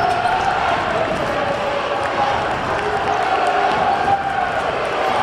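A basketball is dribbled on the court during a Hofstra vs Towson men's college game at the Mack Sports Complex, the bounces mixed into loud crowd noise and cheering with a commentator talking over it.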